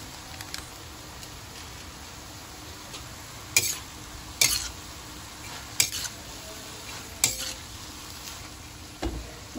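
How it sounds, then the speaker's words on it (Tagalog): Vegetables cook in a pan with a soft steady sizzle, broken by several sharp clinks and scrapes of a utensil against the pan at irregular intervals. "Magluluto tayo ng gulay."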